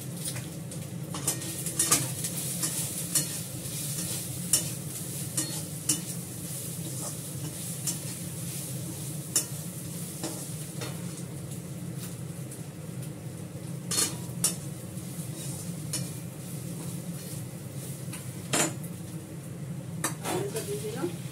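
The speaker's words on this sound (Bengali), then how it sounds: "লঙ্কার গুঁড়ো দিলাম, কাশ্মীরি লঙ্কার গুঁড়ো, হলুদ, ভালো করে কষিয়ে দেবো।" Kashmiri chili powder and turmeric sauté in hot oil in a pan, giving a steady close sizzle broken by occasional scrapes and clicks of a stirring spoon, with faint birdsong in the background.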